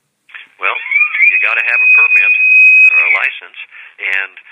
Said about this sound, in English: That's the call on my phone is an elk bugle.